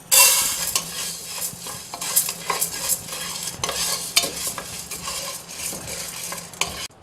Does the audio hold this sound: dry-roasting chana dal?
yes